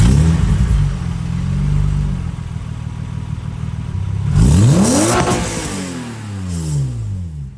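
A Toyota MR2 SW20 with a 2GR V6 engine swap and a modified muffler idles with a deep, steady exhaust burble, then revs up sharply twice and falls back, loud and close.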